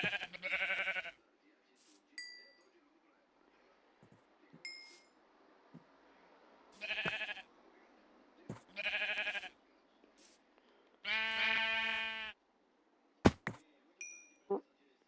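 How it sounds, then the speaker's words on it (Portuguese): Sheep in the video game Minecraft bleat in short spaced calls, about four wavering bleats over fifteen seconds, with sharp clicks and thuds of game actions between them and quiet stretches. "Oi, ovelhinha."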